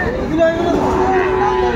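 Cows with calves at the Aftabganj cattle haat give one long, drawn-out moo, loud and near, with crowd chatter in the background.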